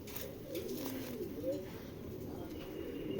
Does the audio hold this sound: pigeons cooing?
yes